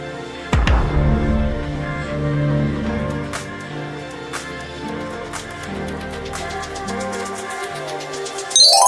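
The Netflix logo sound: a sharp deep thump opening into a rich, swelling sustained chord that fills the clip at steady loudness, with no voices.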